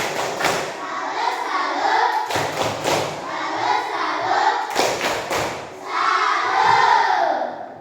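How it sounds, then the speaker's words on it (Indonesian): Children doing a rhythmic tepuk salut clapping cheer in an Indonesian classroom: loud bursts of claps and thumps in a patterned beat, with shouted voices chanting along between the clap groups. "kita tepuk tangan dulu, ya. Ya, tepuk salut."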